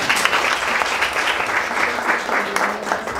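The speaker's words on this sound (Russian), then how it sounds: "похлопаем этим учителям" An audience applauds teachers at a certificate presentation, steady dense clapping from a crowd filling the whole stretch without a break.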